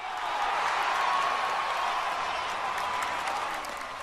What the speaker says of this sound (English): The crowd acknowledges is another 100-yard effort for Barry.